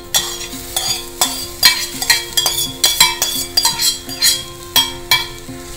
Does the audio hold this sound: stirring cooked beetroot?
yes